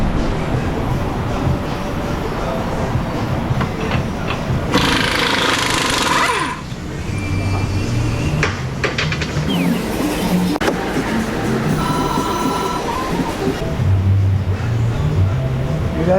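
Pneumatic air hammer pounding on a seized ABS wheel bearing of a Chevy Traverse, a loud continuous rapid rattling that runs almost unbroken through the clip with brief pitch changes, close and dominant.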